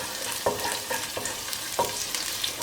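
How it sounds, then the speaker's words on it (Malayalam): Dried red chillies frying with garlic and ginger in an oiled pan give a steady sizzle, with a few sharper stirring scrapes and spits at intervals, close and fairly quiet with no talking. "ഇതിലേക്ക് നമ്മളിപ്പോൾ വറ്റൽമുളകും കൂടി ഒരുമിച്ച് ചേർക്കുകയാണ്."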